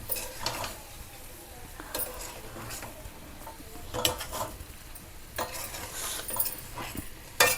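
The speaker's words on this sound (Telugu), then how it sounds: "ఇలా అడుక్కి పైకి ఇలాగే కలిపేసుకుని" Pepper chicken being stirred in a pan, the spoon scraping and turning the pieces in soft, irregular strokes over a faint sizzle, with occasional sharper clinks against the metal.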